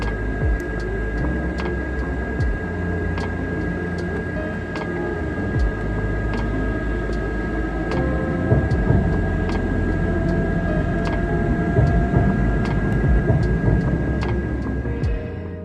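Cab of a train being driven at a train museum, running at speeds up to 180 km/h: a continuous low rumble and rolling roar with a steady hum, punctuated by regular sharp ticks like wheels crossing rail joints, rising slightly midway.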